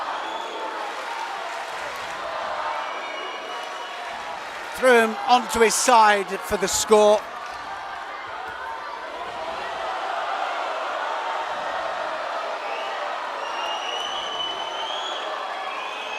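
A partisan crowd at a judo Grand Slam in Tel Aviv roars and applauds as a throw scores, a steady wash of cheering that runs the whole time. Louder clapping bursts come midway, and a commentator talks over it.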